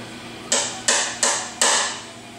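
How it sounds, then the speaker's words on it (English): Four sharp metallic hammer blows on a steel center punch set into a broken bolt, evenly spaced and close, each ringing briefly before the next strike. "I'm going to take a center punch and put it right in the middle"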